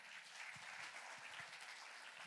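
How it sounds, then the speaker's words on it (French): A church congregation at a Sunday celebration applauds, a steady wash of many hands clapping at a distance, quiet and even throughout, with a few soft low thumps beneath it. "j'aimerais qu'on puisse applaudir vraiment le Seigneur"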